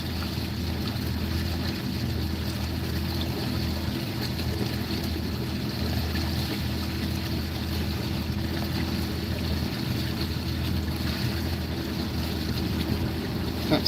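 Strong wind rips across a fishing boat on open water, a steady loud roar with wind buffeting the microphone throughout, no voices.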